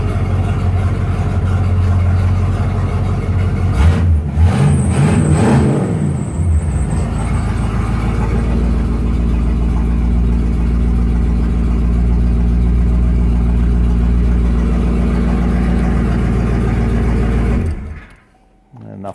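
A 1983 Ford LTD Crown Victoria fitted with homemade mufflers idles with a deep, steady rumble, briefly rising into a short rev before settling back. The loud idle runs on until it cuts off near the end.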